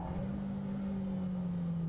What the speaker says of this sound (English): the heel toe downshift, is to bring the engine revs in line with what the transmission is doing